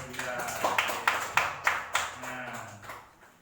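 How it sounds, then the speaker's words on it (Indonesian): Classroom clapping during a lesson on Islamic history, a series of about nine sharp hand claps at a steady rhythm, fairly close and moderate in level, with faint voices murmuring underneath. "Tepuk tangan beliau."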